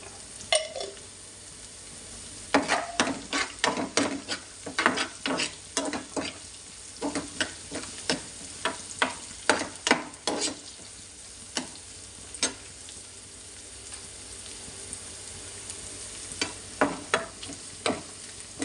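Garlic fries in oil in a pan while a spoon stirs it, giving a soft continuous sizzle under frequent irregular scraping and clinking strokes that come in busy bursts, then thin out toward the end.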